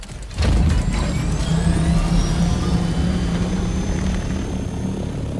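A propeller aircraft engine in the War Thunder combat flight game swells quickly to a loud, steady droning roar and holds near and constant with no talk.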